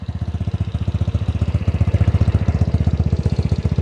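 A Vespa Sprint scooter engine idles close up with a steady, rapid pulsing beat and a rough, rattling camshaft noise, alone with no talking.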